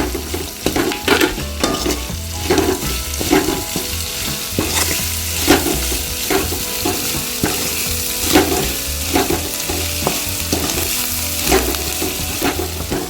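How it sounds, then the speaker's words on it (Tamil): Onion, curry leaves and green chillies sauté in a pan with a loud, continuous crackling sizzle, broken by regular scraping stirs that recur every second or so. "கருவேப்பிலையும் பச்சை மிளகாயும் சேர்த்துக்கலாம். கொஞ்சம் வதங்கிட்டு"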